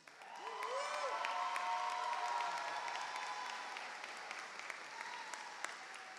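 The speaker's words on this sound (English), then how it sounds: "let's give another round of applause to our Say Yes recipients" At a 2025 high school graduation, a crowd gives sustained clapping and light cheering for scholarship recipients, building fast then easing gradually, with a brief voice over the start.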